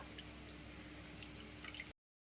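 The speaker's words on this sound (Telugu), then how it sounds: "చింతపండు గుజ్జు అనేది వేసుకోవాలి ఇలా చేయి అడ్డు పెట్టుకొని ఇలా ఈ రసం అంతా కూడా ఈ ఇందులోనే వేసేయాలి ఈ అలసందల వాటర్లో" Tamarind pulp juice is poured by hand into the cooking water of boiled cowpeas, giving a quiet, steady liquid trickle and splash for about two seconds before stopping abruptly.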